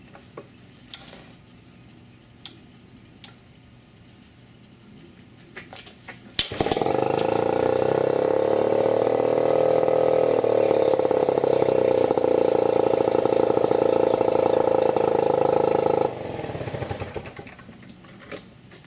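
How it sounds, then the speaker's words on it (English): A Mercury 9.8HP outboard engine, its carburetor just cleaned, is started after quiet clicks and handling, then runs loudly and steadily for about ten seconds before shutting off abruptly, leaving quiet handling sounds. "after cleaning the carb, I was able to get it to start"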